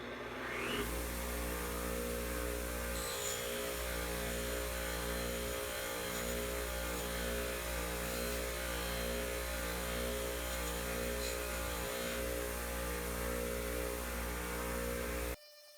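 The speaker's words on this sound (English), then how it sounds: "we're going to run over to the Scotchbrite wheel to give it a slight orange peel texture" A Scotchbrite wheel runs against a knife blade to give it an orange peel texture, a steady motor hum and whir that holds throughout and stops abruptly at the end.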